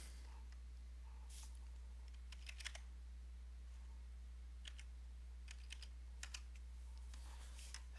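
Someone types a code on a computer keyboard, producing a few short bursts of quiet, close key clicks with pauses between them over a low steady hum.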